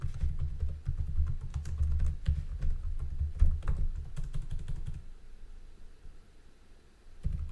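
Typing on a computer keyboard, a fast irregular patter of close key clicks for about five seconds, then quiet room tone and a final pair of keystrokes.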